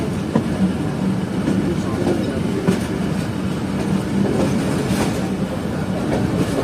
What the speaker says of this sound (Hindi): तो ट्रेन काफ़ी अच्छी स्पीड में चल रही है।